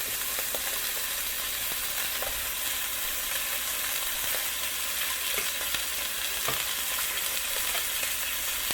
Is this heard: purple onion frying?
yes